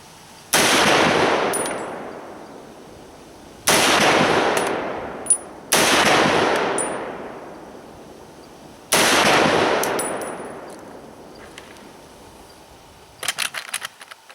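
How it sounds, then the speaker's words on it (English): An M1 Garand rifle fires four loud shots at a target, spaced a few seconds apart, each with a long ringing decay. A brief metallic clink follows one shot, and rattling handling clicks come at the end. "give you guys a perspective of what it looks like from that side of actually shooting the rifle"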